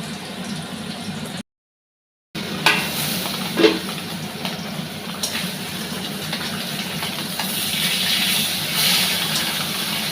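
Fish frying in hot mustard-flavoured oil in a pan, a steady close sizzle and crackle running almost the whole time, broken by a short dropout and a few utensil taps.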